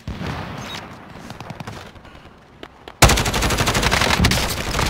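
Rapid automatic gunfire in a multiplayer shooter, quieter scattered shots at first, then a sudden loud burst of sustained close machine-gun fire.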